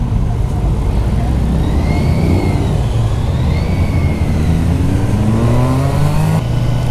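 A 2021 Kawasaki Versys 1000 motorcycle engine runs steadily while riding, a loud continuous drone with rising and falling rev tones and heavy wind rush throughout.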